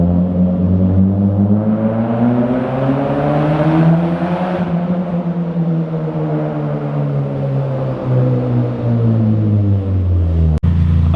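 An NA Mazda Miata with a Manzo exhaust drives through an enclosed parking garage, its exhaust droning loud and booming off the walls as engine pitch rises and falls, ending with a sharp click.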